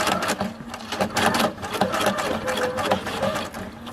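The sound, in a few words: sewing machine tacking down lace, free motion sewing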